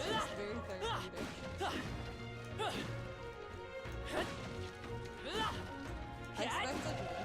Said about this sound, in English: Still no rewards for smashing all these boxes.